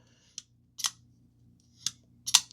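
A Kizer front flipper folding knife snapping open and shut, four crisp metallic clicks in an uneven rhythm, close and clear against a quiet room with no talking.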